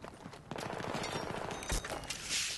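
Rapid gunfire in the video game Battlefield 3, a dense burst of shots with sharp cracks and a louder blast near the end, heard without speech.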